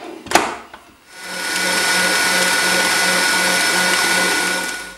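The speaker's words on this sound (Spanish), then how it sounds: "Lo volvemos a batir y lo pondremos en el número 5." A Kenwood Cooking Chef stand mixer beats butter and cream cheese at speed setting 5, a brief clatter at the start and then a steady, loud, even whir running close up for several seconds.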